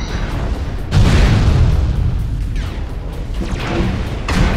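An SRM launcher is blown apart in a video game mech battle, with a heavy booming blast and rumbling debris that rolls on for several seconds, followed by a few smaller pops and thuds.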